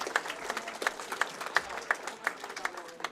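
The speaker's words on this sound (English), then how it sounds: "A round of applause for all of the competitors here this morning." A modest audience at a Wisconsin state high school bowling championship gives a short round of applause for the competitors, with soft, scattered clapping heard from a distance.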